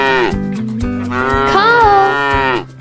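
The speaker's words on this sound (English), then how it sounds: "Cow." A cow gives one long, loud, close moo that rises and falls in pitch over almost three seconds.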